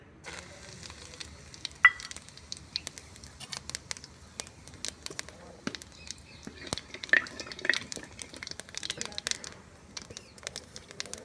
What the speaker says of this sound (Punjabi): ਤੇਲ ਜੀ ਆਪਣਾ ਗਰਮ ਹੋ ਚੁੱਕਿਆ ਆਪਾਂ ਜੀਰਾ ਤੇ ਕਸੂਰੀ ਮੇਥੀ ਪਾ ਰਹੇ ਹਾਂ ਜੀ